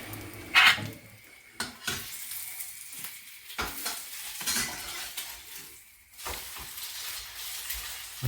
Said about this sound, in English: And then fry it.